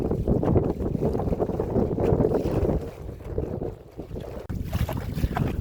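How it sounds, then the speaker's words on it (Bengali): Strong southerly wind buffets a small wooden fishing dinghy on the Bidyadhari river in the Sundarbans, with heavy roaring wind noise and water slapping against the hull in irregular surges, close and loud, no voices. "প্রচণ্ড দক্ষিণে হাওয়া আমাদের এখানে, তাই নৌকা বাড়ি দিচ্ছে জলের সাথে।"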